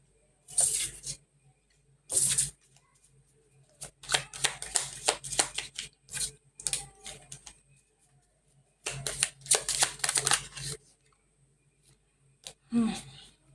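Tarot cards shuffled in repeated riffling bursts, close and moderately loud, separated by short pauses with a faint soft knock near the end.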